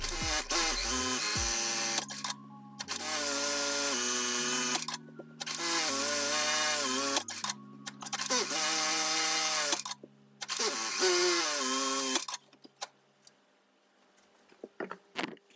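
A sewing machine that winds its bobbin while sewing, running in several bursts of steady, loud mechanical whirring and buzzing that change pitch between runs and are separated by short pauses, with no talking.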